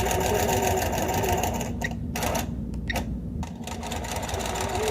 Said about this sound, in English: we're just gonna sew for a little bit here